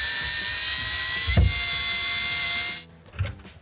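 A power drill with a Phillips bit drives a screw tight while mounting a C-clip for a reverse osmosis pre-filter under a sink, giving a steady high whine for almost three seconds that cuts off, followed by a faint clunk.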